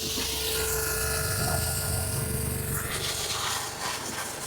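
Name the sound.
pressure washer spraying a car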